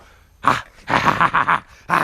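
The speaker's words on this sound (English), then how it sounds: "So that's a crazy dog going here." An excited dog makes a string of rough, rapid growling and yappy bursts, close and loud, with short pauses between the bursts.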